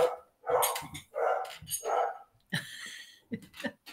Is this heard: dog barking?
yes